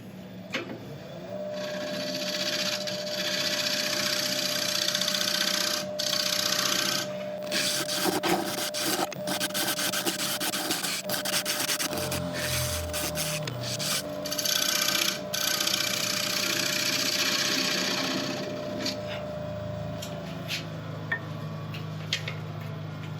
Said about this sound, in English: I'm just going to get in with a scraper to finish the last couple of little bits